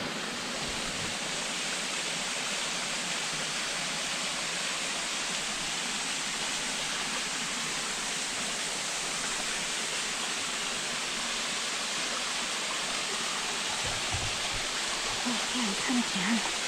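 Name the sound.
waterfall on a muddy hiking trail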